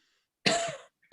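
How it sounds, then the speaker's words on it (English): A single sharp, close cough with silence around it, followed by the start of another right at the end. "And have another go at coughing."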